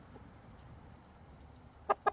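A hen gives two short, faint clucks near the end of a quiet stretch, eating acorn weevil grubs given as training treats.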